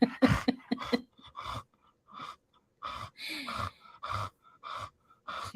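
Pregnant dog panting heavily after running around a yard, with rapid, rhythmic, breathy huffs close up and short pauses between bursts.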